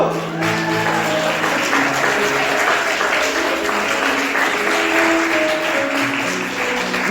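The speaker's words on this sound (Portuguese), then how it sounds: "Vamos aplaudir o Espírito Santo" Congregation applauding together in a church service, a steady broadband wash of clapping that holds throughout with a faint tonal background underneath.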